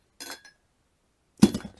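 A big glass of water clinks at a craft desk, with a light glassy tap, a short pause, then a louder, ringing clink, both close and alone without talk.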